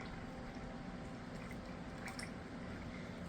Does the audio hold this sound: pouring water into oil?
yes